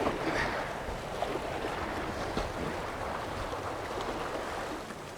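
Canoe heading downriver on a whitewater river in Ontario, with steady rushing water and wind noise filling the scene, a continuous broadband wash of current close by and no clear individual paddle strokes standing out.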